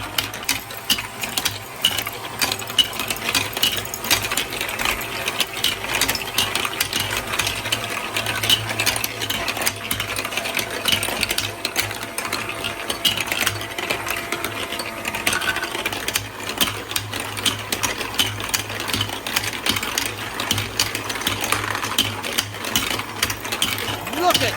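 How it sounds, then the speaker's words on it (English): A giant marble run fills the space with a dense, continuous rattle and clatter as many marbles roll down the lanes and spirals, with constant clicking and mechanical churning and no pauses. "the spirals are constantly feeding new marbles back to the top. It's a non-stop loop."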